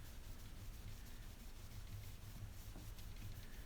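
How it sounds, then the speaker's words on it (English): A cloth rubs back and forth along the wooden fretboard of an acoustic guitar, a soft, faint, continuous brushing scrape heard alone and close. "And then take your cloth and just wipe it back off."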